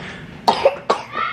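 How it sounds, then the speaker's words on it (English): Three sharp coughs from one person nearby, the first two close together and the third after a short pause, over a low background hum. "Ooh, terrible cough."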